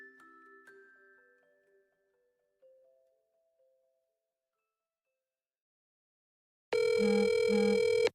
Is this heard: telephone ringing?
yes